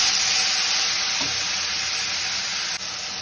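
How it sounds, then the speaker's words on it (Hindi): Onion paste frying in hot oil with whole spices such as cardamom for a prawn malai curry, giving a steady, close sizzle throughout with no talk. "तो जब तक मेरे ऑनियन फ्राई हो जाएगा अच्छे से"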